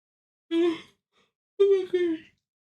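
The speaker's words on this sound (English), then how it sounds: "I have no excuse for yawning" A voice lets out two drawn-out, tonal yawning exhalations, the second longer and breaking partway through, close and clear against a silent background.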